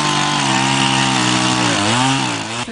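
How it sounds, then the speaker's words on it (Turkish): A chainsaw cutting trees in a forest during a forestry worker safety training in Giresun roars loudly and steadily up close, its engine pitch dipping briefly near the end. "Motorlu testere ile ağaç kestiler."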